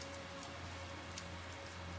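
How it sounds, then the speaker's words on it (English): Rain falls in the video game Tales of Zestiria, a soft, steady hiss of drops with a low constant hum beneath and no speech. "find shelter from the rain"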